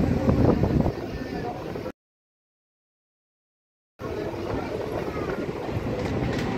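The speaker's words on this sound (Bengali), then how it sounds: "খড়দা স্টেশন ছেড়ে বেরিয়ে যাচ্ছে ট্রেন, সামনে আসছে টিটাগড়।" A local train pulls out of Khardah station toward Titagarh on the Sealdah–Bandel line, its steady rolling rumble and rattle heard close from on board, with a short gap of silence midway.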